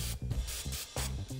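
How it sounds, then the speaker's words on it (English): Cooking spray hisses onto a non-stick silicone spatula in several short bursts, close and fairly loud, with no talk. "spray with cooking spray a non-stick silicone spatula"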